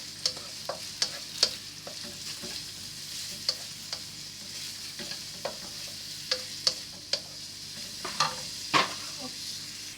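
Rendang spices sautéing in a pan until soft, a faint steady sizzle under repeated sharp clicks and taps from a utensil stirring, spread unevenly across the stretch.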